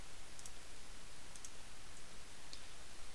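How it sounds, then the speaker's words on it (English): A computer mouse gives quick double clicks, two crisp paired clicks about a second apart and then a fainter single click, close and quiet over faint background hiss. "You just double click in the Save To folder field for that particular file"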